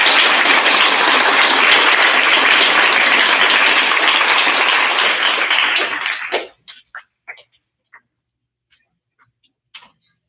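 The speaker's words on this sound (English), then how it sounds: "If you'd like to give them a round of applause" An audience at a sixth grade school awards ceremony applauds loudly for about six seconds, then the clapping dies away into a few scattered, isolated claps before silence.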